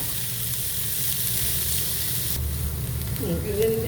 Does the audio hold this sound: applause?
no